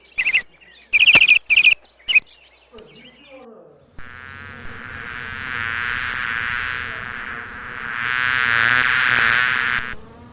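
A steady insect buzz drones for several seconds, swelling louder toward the end, after a few short spoken words at the start.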